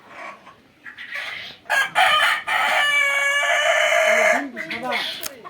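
An Egyptian Fayoumi rooster on a farm in Bakshiganj, Jamalpur gives one loud, drawn-out crow close by, with hens clucking around it. A person talks before and after the crow.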